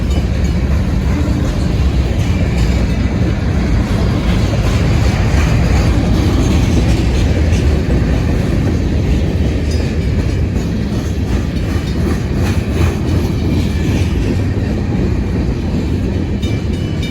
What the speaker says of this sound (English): Train runs apparently.